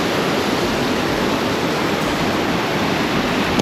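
A rain-swollen creek on Saltspring Island near Burgoyne Bay rushes steadily as one continuous, loud broadband roar, close by and unbroken, with no voices over it.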